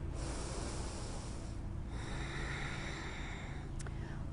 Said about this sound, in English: We'll take another breath here.